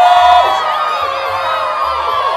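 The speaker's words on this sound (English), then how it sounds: "Cheer as loud as you can if you think the green cake is the best" Children on the green team cheering and whooping as loud as they can, a sustained dense wall of high-pitched shouting from a crowd, loud and continuous throughout.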